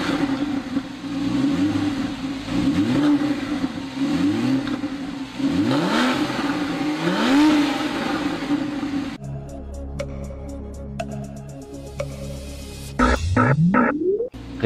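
Porsche flat-six engine revving repeatedly in rising sweeps, loud and close, then settling into a lower idle before a final sharp rev climbing near the end; no talking.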